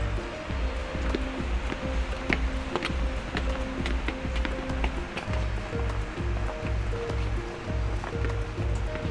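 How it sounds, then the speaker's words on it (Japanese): Steady broadband rush of flowing water at Otodome waterfall near Japan's majestic mountain area, continuous and close, with low rumbling undertones and faint rustling throughout, no voices. "音止めの滝に行きます。"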